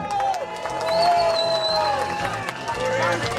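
Crowd at a beer festival contest cheering and applauding, a lively roar of voices and shouts with scattered clapping, swelling slightly in the middle, with nearby talk mixed in.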